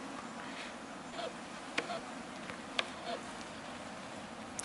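Honeybees, workers and larger drones, buzzing around an open hive during a health check, a steady close hum of many insects with brief louder passes as single bees fly near, no talking.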